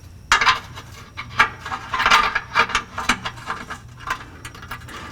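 During an oil change on a 2014 Porsche 911 GT3, a tool fastens a drain bolt with an 8mm hex bit, giving a close series of sharp metallic ratchet clicks and clinks in irregular bursts.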